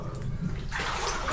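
People wade into cold, waist-deep water inside an underground mine, making close sloshing and splashing sounds that build into a louder watery swirl.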